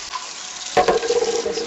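Tap water runs steadily into an Instant Pot inner pot as it is rinsed, a continuous close splashing rush that swells partway through, with no talk.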